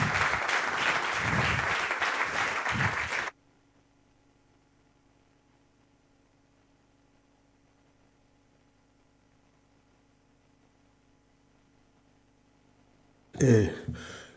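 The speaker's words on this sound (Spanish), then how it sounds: "Octavio Granado, un aplauso para él." Loud, dense applause from an audience welcoming a speaker at a Spanish-language lecture on social and political policy, lasting about three seconds before cutting to near silence with a low hum, then a brief noisy burst at the end.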